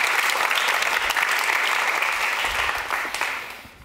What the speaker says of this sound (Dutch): Een applaus misschien wel voor dit experiment.